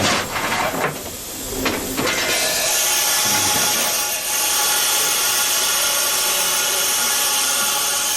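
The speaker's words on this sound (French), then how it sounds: "Ah oui, une machine à vapeur, c'est très vivant." A steam locomotive with its brakes applied lets out a loud, continuous hiss of steam, close by and filling the whole stretch, with a few bursts and surges in the first seconds.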